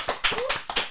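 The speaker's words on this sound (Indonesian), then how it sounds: "Sekali lagi tepuk tangan dong" A handful of distinct hand claps on a podcast set, about five quick, fairly close claps in an uneven rhythm over under a second.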